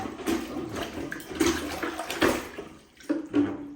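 A clogged toilet is worked with a plunger, giving repeated bursts of water gurgling and sloshing close by, with short pauses between pumps.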